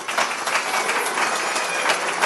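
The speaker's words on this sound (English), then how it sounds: "let's get out there and let's do a little cheering." Audience cheering and applause fill the room with steady, dense clapping and crowd noise at a business awards event recognizing companies, loud and continuous throughout with no talk over it.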